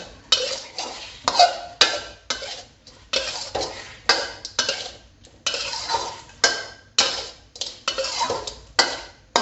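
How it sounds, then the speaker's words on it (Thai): Fresh shrimp stir-fried with shrimp paste and stink beans in a pan over high heat: a metal spatula scrapes and knocks against the pan in repeated strokes, roughly one every half second, with short pauses between, close and clear. "ผัดรอให้สตอสุกนะคะ"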